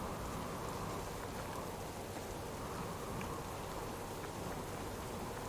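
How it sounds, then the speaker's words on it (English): Rain falls steadily in the Subsistence video game, a dense, even hiss of drops that holds at the same level throughout without any voices. "Really shouldn't run around when it's raining, and I'm trying to listen."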